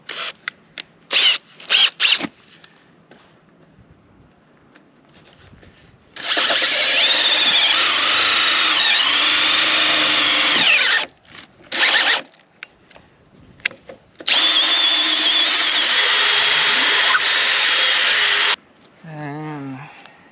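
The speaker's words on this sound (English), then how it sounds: "Try to keep your drill as level as possible." Drilling holes to hang a farm gate: several quick trigger blips, then two sustained loud whining runs of a power drill with rising and falling pitch, followed by a short rattling burst at the end.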